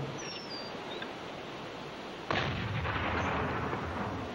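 Naval guns on a World War II-era Allied ship fire at a German U-boat, a heavy blast landing sharply midway and leaving a sustained rumbling roar, with no talk.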